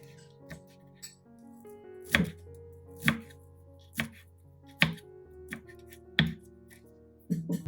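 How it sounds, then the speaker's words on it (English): A knife chops fresh cilantro into short sections on a cutting board, giving about a dozen crisp, uneven thuds with soft rattling between them, close and clear with no voices. "Prepare some cilantro. Cut into short sections."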